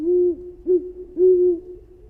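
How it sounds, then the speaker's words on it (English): Three owl hoots in a generated nighttime forest ambience, each a soft, tonal call with a slight rise, spaced unevenly over a hushed, low background. "we create a subtle nighttime forest ambience with distant owls, insects, soft wind, and moving branches"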